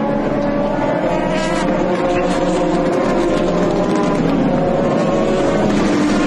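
Ferrari and Maserati GT race cars racing in the 2004 FIA GT Championship at Dubai, loud high-pitched engine whine sustained throughout as cars pass close by, with rising and falling revs.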